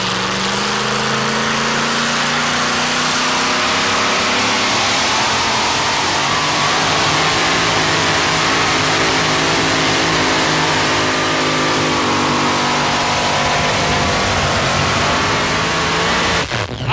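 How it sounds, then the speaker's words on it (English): A tractor-pull racer powered by a 575 cubic inch all-aluminum Aries racing engine roars loudly and steadily for the whole stretch, a dense, unbroken engine blare at a 1987 pulling event. "296 and 3, about a 575 cubic inch all aluminum block racing Aries motor."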